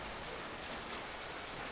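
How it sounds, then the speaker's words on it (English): Dense heavy rain pours down outdoors as an even, continuous wash of hiss, close and steady, with no other sounds. "it's raining heavily"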